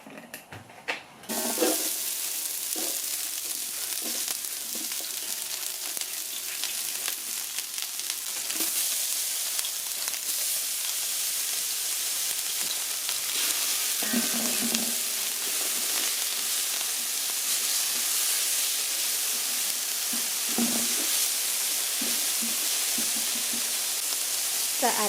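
Shredded cabbage frying in avocado oil in a pan, a steady bright sizzle that starts abruptly and carries on continuously, with a few stirring knocks and scrapes at intervals.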